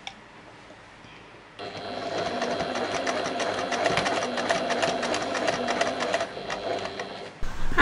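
A sewing machine stitches an Octavia wallet in one steady, continuous run for about six seconds, close and fairly loud, stopping briefly near the end before starting up again.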